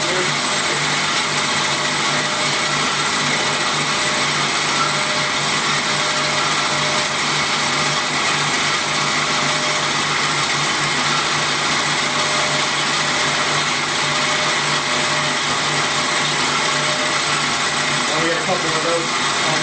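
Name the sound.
Amada HA 250 bandsaw cutting metal at top speed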